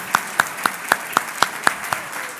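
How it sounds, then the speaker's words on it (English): Rhythmic clapping for award honorees at a community awards ceremony, evenly spaced sharp claps about every quarter second, prominent and near, sounding like a few hands or a steady beat rather than a dense crowd. "Please, round of applause, please."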